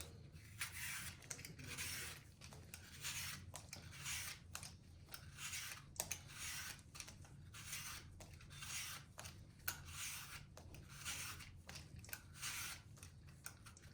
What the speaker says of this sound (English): Granny Smith apple. Going to cut the end off. Going to peel it.